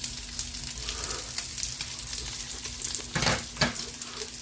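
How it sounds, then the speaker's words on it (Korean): Water parsley (minari) sizzles on a grill beside pork belly outdoors on a rainy day, a steady close crackling fry with a few louder bursts of spitting and utensil stirring near the end. "지금 미나리를 맛있게 굽고 있습니다"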